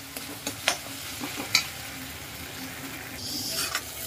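Tomato-based masala for baingan bharta cooks in a pan with a soft, steady sizzle, broken by a few light scraping stirs and clinks, close but quiet, with no one talking.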